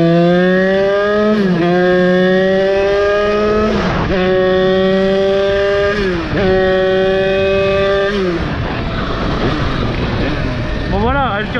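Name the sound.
Beta 70 WR motorcycle accelerating from first gear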